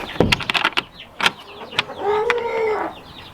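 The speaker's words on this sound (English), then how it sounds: "We got a whole pile of chickens in here now." Chickens kept on pasture clucking and calling close by, a run of sharp irregular clucks followed by a longer drawn-out squawk or crow.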